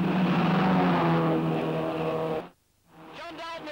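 Vintage MG TD and Cooper MG sports cars race at the Gamston circuit, their engines roaring loud and close for over two seconds, then dropping abruptly to near silence before faint engine noise returns.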